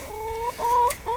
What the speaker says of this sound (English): I ain't got many chickens left,